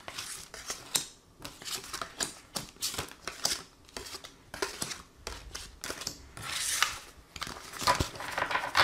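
Tarot cards being shuffled and drawn by hand, with a steady run of crisp riffling, snapping and papery slides, close and fairly loud, coming in irregular bursts with short pauses between them.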